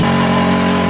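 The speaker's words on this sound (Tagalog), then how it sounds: "Masyadong traffic dito sa taas guys." Busy road traffic from riding in heavy congestion on a hill road near Pagkiruan bridge, with car and motorcycle engines humming steadily and close, a continuous dense rumble with no talk.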